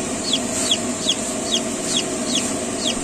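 Poultry chicks, likely young turkeys, give repeated high-pitched distress peeps in a regular rhythm, about two per second, close by and steady above a low background hum on a farm.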